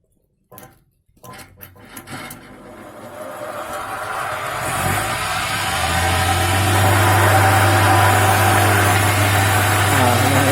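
A homemade DIY wood lathe with a loud, noisy bearing starts after a few clunks of handling, then runs with a steady, growing motor hum and a rough grinding whine close by.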